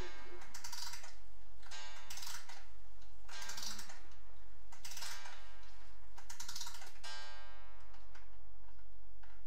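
A wind-up mechanical clock ticks steadily and continuously up close, with a busy mechanical clatter and rhythmic bursts of brighter clicking, and no voices.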